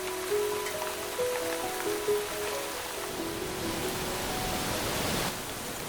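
Intense rain downpour in the Welsh mountains: a steady, dense hiss of falling water fills the whole stretch, with a few faint tonal whistles early on.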